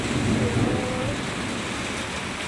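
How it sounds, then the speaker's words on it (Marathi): Heavy monsoon rain pours down at the Shankar Maharaj math, a steady, dense broadband hiss that stays loud and unbroken throughout, with a faint murmur underneath. "काय डेंजर पाऊस"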